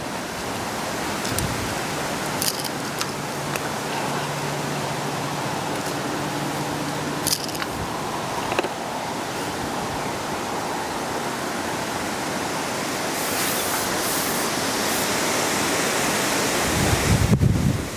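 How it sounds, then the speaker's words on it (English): Strong swirling wind buffets an outdoor microphone at a fishing match, a loud continuous roaring rush with gusts that swell toward the end and a few faint knocks. "This is absolute wind. Terrible. It's weird, it's like swirling down."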